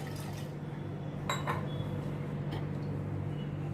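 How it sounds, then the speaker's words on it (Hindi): Water is poured over baby potatoes in a cooking pot in a home kitchen, a faint steady trickle with a couple of brief clinks of the vessel, heard alone. "इनको बस थोड़ा मैं पानी डालूँगी, ज़्यादा नहीं"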